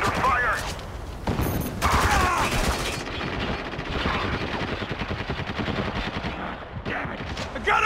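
Bursts of rapid gunfire and heavier blasts rattle through a firefight in Spec Ops: The Line, loud and repeated with brief lulls, while a voice shouts in the mix.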